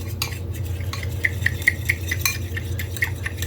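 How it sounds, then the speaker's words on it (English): A fork scrapes and clinks rapidly against the sides of a bowl while stirring a small batch of flour and milk batter. The strokes are brisk, close and repetitive, with a low hum underneath. "So I get that stirred in real quick."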